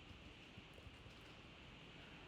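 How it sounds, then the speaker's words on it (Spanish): Heavy rain pours outside during an indoor lesson, a faint, steady wash of hiss with no break and no voices over it. "No sé si lo escucháis, pero está lloviendo una barbaridad."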